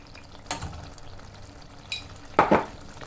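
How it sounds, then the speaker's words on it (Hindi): Masala with kasuri methi and green chillies being stirred and fried in a pan, soft sizzle under a few sharp spoon scrapes and clinks against the pot. "इसको थोड़ा सा और भूनती हूँ"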